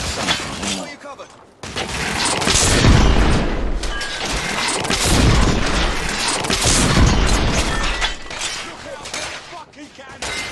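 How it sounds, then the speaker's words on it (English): Heavy cannon fire booms and shatters in the Victorian-era shooter The Order: 1886, a loud, dense barrage of explosions and crashing debris that goes on for several seconds, with shouted voices mixed in. "Fucking cannon!"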